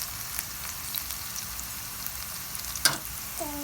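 Red onions fry in a pan for an egg korma with pumpkin, a steady soft sizzle running throughout, with one brief sharper clink or scrape near the end and no talking.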